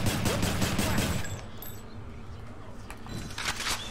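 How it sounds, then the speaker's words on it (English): Rapid gunfire from a gun in the video game Hades, a dense continuous stream of shots under busy game noise that thins briefly in the middle and picks up again. "Skelly, I need to shoot you"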